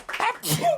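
A man sneezes with a spoken-style "atchoum", a short burst close to the mic that rises into a broad hiss and ends on a brief voiced tail, with talk on either side.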